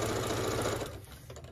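A sewing machine stitching quilt pieces for a pinwheel baby quilt, a steady rapid mechanical whir close up that slows and stops near the end.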